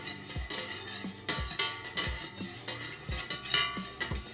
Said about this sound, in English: So we're going to stir for a few minutes.